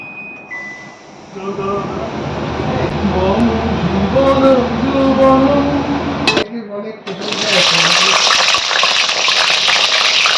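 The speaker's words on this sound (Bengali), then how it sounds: "চলো আগে পটলগুলো ভেজে নেব তেল দিয়ে দিয়েছি" Pointed gourd (potol) fries in mustard oil in a wok, giving a steady loud sizzle. A voice talks over it, then the hiss surges harsher and brighter near the end.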